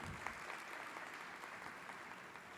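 Audience applause at a legal panel session, steady continuous clapping from a seated crowd heard faintly and at a distance, even throughout with no voices standing out.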